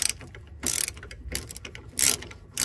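A ratchet wrench clicks in three quick bursts while loosening a 10 mm steering rack line support bolt on a first-generation Porsche Cayenne, VW Touareg or Audi Q7, close and crisp with quiet pauses between.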